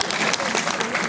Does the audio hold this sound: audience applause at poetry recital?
yes